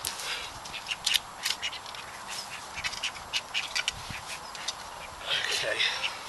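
Ducks quack repeatedly in short irregular bursts close by outdoors in a garden where a fruit tree is being planted, with a louder busier flurry of calls toward the end.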